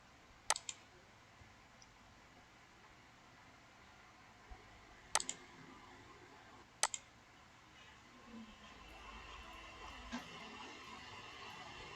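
Computer mouse clicks at a desk: a few sharp isolated clicks, some in quick pairs, spread across a quiet room with low background hiss.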